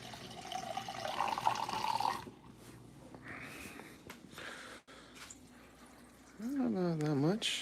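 Water being poured into a pot for Jin Ramyun instant noodles, first a splashy stream under background clatter, then after a pause a rising gurgling fill near the end.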